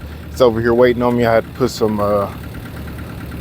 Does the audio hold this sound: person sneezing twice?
no